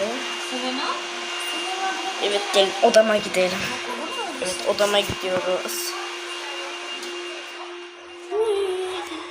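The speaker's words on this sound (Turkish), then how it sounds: "eğer robot sesi geliyorsa şey bizim süpürge robot süpürgemiz var onun şeyi" A household robot vacuum cleaner runs as a steady whirring hum throughout, with children talking over it at moderate distance while walking between rooms.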